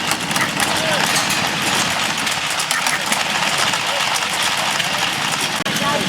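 A vintage engine at an old engine display runs with a steady rumbling drone that stays loud and even throughout, and a voice speaks over it.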